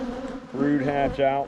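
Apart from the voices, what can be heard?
honeybees buzzing around an open hive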